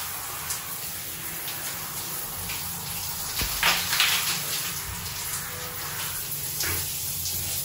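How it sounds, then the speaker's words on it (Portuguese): Running water pours steadily from a tap, rinsing shampoo foam out of an eight-year-old girl's hair during a hair-straightening treatment, a continuous close splashing gush with brief louder surges midway. "enxagua bem pra sair toda a espuma"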